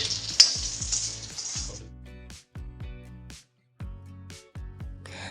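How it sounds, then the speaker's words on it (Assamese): Food sizzles in oil rendered from pork fat, a bright hiss loudest at first, then fading under a series of short tonal notes that come and go. "এই গাহৰিত তেল ভাজি পেলাই তেল উলিয়াইছোঁ এই তেলতে ভাজিম"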